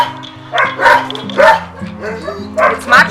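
Street dogs in Zakynthos bark and yip in repeated bursts nearby, mixed with whimpering, as people talk over them.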